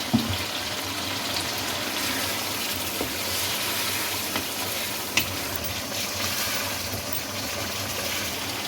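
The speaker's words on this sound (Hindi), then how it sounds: "इसमें 1 टीस्पून लहसुन अदरक पेस्ट वो भी डाल दें ताकि वो भी इसके साथ भुना जाए" Mashed tomatoes with a teaspoon of garlic ginger paste frying in a pan for chicken karahi, a steady close sizzle with occasional scrapes and taps from a stirring spoon.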